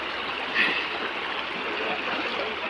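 Cold water of a village khad, a mountain stream where villagers gather to bathe, rushes and trickles in a steady, close wash with no talk.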